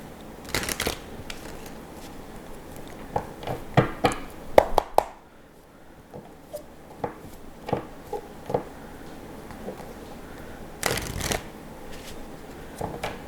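Tarot cards are shuffled and riffled by hand in several short bursts of papery flutter and taps, close and fairly quiet, with pauses between them and no talking.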